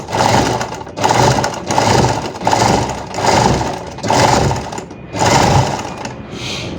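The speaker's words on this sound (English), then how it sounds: "gently you just sew it using your zigzag stitches" A sewing machine running zigzag stitches around the edge of an Ankara fabric patch, loud and close, in steady whirring bursts with brief pauses between runs and no talking.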